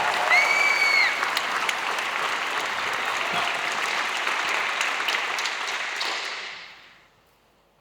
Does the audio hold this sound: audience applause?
yes